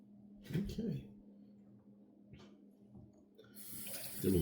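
Cold tap water runs at a bathroom sink and splashes onto a face during a wet shave, with brief splashing bursts early on and a hissing rush of water near the end over a low steady hum.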